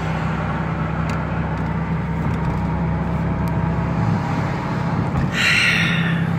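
Cars driving along a road during lockdown in Fort Lauderdale, a steady rolling traffic hum with engine drone and one passing vehicle swelling louder near the end.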